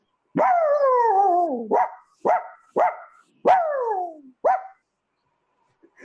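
A small dog like a Pomeranian gives a series of about six sharp barks and yelps, the first long and falling in pitch, the rest shorter with brief gaps, close and loud.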